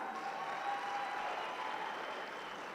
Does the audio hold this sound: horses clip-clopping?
no